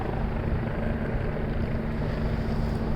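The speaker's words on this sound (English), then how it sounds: "I like the sound of that water out there" Water outside near a city skyline on a cold evening, heard as a steady, broad wash of lapping and rushing noise with wind mixed in, continuous and even throughout with no talking.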